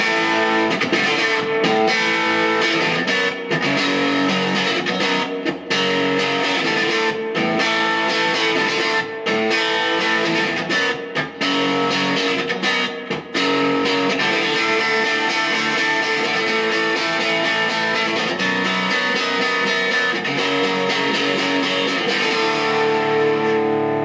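A distorted electric guitar through a Carl Martin Headroom spring reverb pedal, set around 12 o'clock, plays continuously with a wet, washy reverb tail, chords ringing on and sustaining, with no one speaking.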